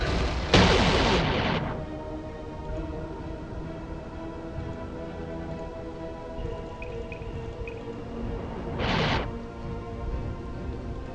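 Heavy battleship guns boom in the EVE Online space game, two loud broadband blasts several seconds apart over a low, continuous rumbling drone.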